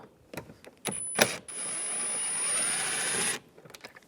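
A ratchet fitted with a T30 socket loosens screws on a 2008-2017 Buick Enclave door panel, with a few sharp clicks and then a steady, whirring ratchet spin for about two seconds, followed by light tapping and handling noise.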